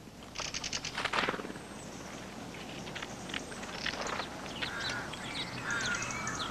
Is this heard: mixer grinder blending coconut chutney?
no